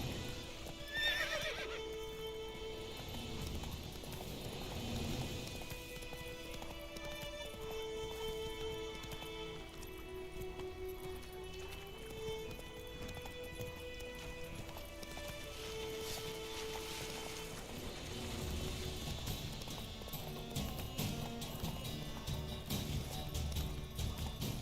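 Roach, a horse in The Witcher 3, gallops with steady clip-clop hoofbeats and a neigh near the start, all under a continuous orchestral game score that stays loud throughout.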